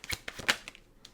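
A tarot card slides and snaps out of a deck, a few quick close papery flicks and riffles within about a second, with no voices.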